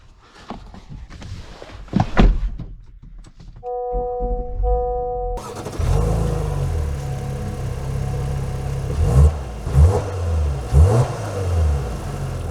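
A 2024 Honda Pilot TrailSport starts up after a few interior clicks and a chime, then its engine hums nearby and swells in several short revving surges as the SUV pulls away.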